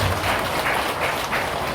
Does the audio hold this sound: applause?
yes